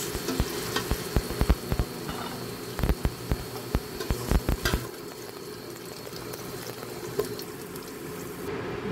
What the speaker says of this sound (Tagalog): Yan, haluin na po natin ang ating patatas.